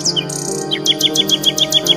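A bulbul in an animated story sings a bright, close run of repeated chirping notes in a steady rhythm over a soft background, with no voices.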